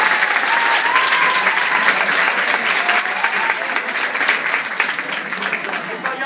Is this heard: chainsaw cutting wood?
no